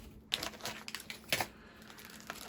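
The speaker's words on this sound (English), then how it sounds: "Comes in a plastic bag." Plastic crinkles in several quick, crackling bursts, handled up close, with quiet gaps between the rustles.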